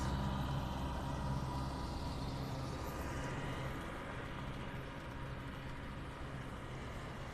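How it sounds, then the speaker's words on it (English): A tractor drives past on Vanderbilt Beach in North Naples, Florida: a steady low engine rumble that is loud at first and slowly fades as it moves away. "The tractor going by in the back"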